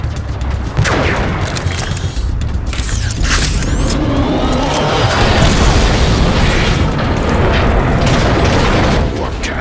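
Heavy cannon fire booms through a battle in Transformers: Fall of Cybertron, a dense, loud barrage of explosions and bursts rolling continuously with mechanical clatter underneath.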